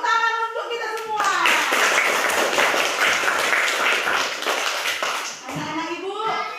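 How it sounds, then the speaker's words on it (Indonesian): Children in a classroom clap together in a dense burst of applause lasting several seconds, framed by a voice speaking before and after. "Iya, tepuk tangan untuk kita semua."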